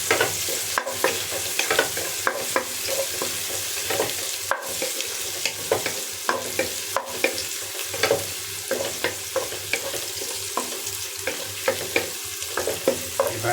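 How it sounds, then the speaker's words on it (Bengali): Green and dried chillies fry in hot oil in a home kitchen before mustard greens go in, giving a continuous sizzle broken by frequent rhythmic spatula scrapes and taps, close and steady with no talking. "তেল গরম ছিল, তাড়াতাড়ি ভাজা হয়ে গেছে।"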